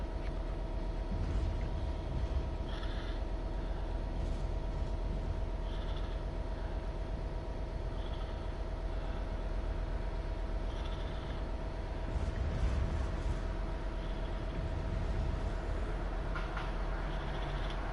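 A class 92 electric locomotive running in Train Sim World 6, a steady continuous rail rumble and hum with faint periodic clicks, even and unbroken throughout, with no talk.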